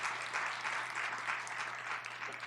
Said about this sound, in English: if you all can give them a hand clap